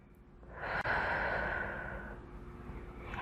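A long, steady exhaled breath during a Pilates mat exercise, rising within the first second, holding for about a second and a half, then tapering off softly with no talking.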